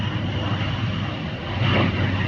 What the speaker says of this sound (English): There's a little plane here.